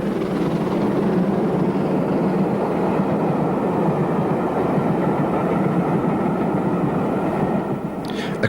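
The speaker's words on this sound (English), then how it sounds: "A Patriot approaches on an 11-coach train." An LMS Patriot class steam locomotive hauls an 11-coach train on a 1930s British main line, making a loud, steady rumble of engine and rolling coaches that continues without a break and fades slightly at the end.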